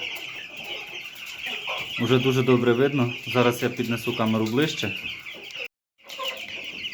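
Broiler chicks cluck and peep around raised drinkers in a poultry house, a steady chatter close by with someone talking over them throughout.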